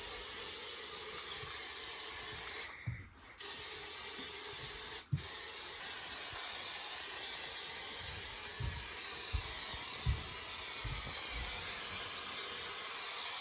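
A can of spray adhesive hisses steadily while coating a Jeep Cherokee headliner with glue, a long continuous spray broken by a couple of brief stops, close and fairly loud.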